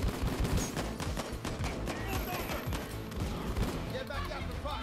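Rapid bursts of gunfire in the heist shooter video game Payday 2, with dense repeated shots over a steady stretch and game background noise.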